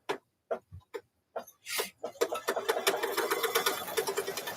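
Embroidery machine stitching a double zipper bag held in the hoop, beginning with a few separate clicks and thumps, then settling into a steady, loud, rapid mechanical rattle up close.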